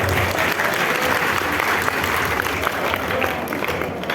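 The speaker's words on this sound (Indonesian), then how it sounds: "Tepuk tangan untuk Wulan dong." Loud, dense clapping from a studio audience rolls on continuously for a few seconds, with a faint murmur of crowd underneath.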